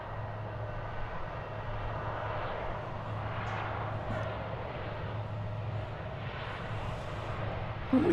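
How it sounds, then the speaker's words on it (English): Flight 1595 from Austin touches down at DFW Airport in November, a distant, steady broadband roar of jet engines that holds evenly throughout without voices. "Flight 1595 from Austin, Texas is just touching down."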